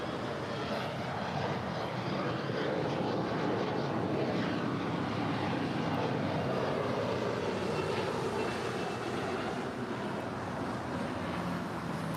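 Jet airliner departing LAX airport, a steady broadband engine roar that holds loud and continuous throughout with no talk over it.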